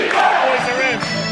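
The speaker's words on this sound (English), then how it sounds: "the crowd loves it" A loud arena crowd roars and cheers in a sustained burst of excited yelling at a Knicks vs Cavaliers basketball game.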